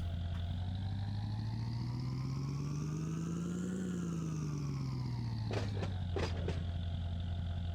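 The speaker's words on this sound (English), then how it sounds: "Can I open the side door? Oh, look at that. Now we can feel the full fury of this big engine." A big locomotive engine in the Run 8 Train Simulator video game rumbles steadily and loudly throughout, its deep drone rising and then falling in pitch, with a few brief clanks near the end.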